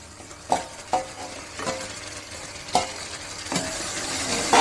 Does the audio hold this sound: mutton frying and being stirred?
yes